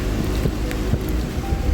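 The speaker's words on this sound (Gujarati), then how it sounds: "થોડો થોડો વરસાદ આવી પણ રહ્યો છે" Light rain falls in a mountain setting, a steady close hiss of drops with faint rumbling underneath, continuous and even throughout with no voices.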